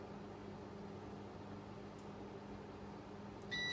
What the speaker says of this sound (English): So that's my microwave going.